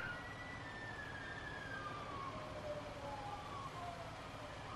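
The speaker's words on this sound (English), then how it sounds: "I hear the siren." A siren wails faintly in the distance in Grand Theft Auto V, its rising and falling tone drifting steadily over a low background rumble.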